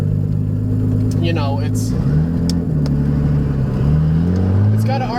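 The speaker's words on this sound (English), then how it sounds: "got an RB20 turbo on it with a screamer pipe" A Nissan 240SX fitted with an RB20 turbo engine and a screamer pipe runs close by with a steady, low droning rumble and slight pitch shifts, while someone talks over it.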